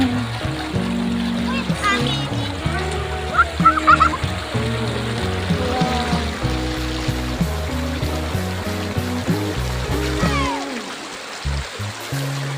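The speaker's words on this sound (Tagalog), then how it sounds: "Ang ganda ng tunog ng tubig guys" A river flows and splashes over rocks at a riverside spot, a steady rushing wash beneath frequent talking voices, with a fowl calling now and then.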